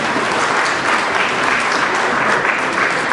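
An audience applauds at an award ceremony for a children's art competition, an even, sustained patter of many hands clapping from start to finish.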